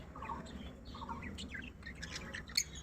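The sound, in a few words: pet lovebirds chirping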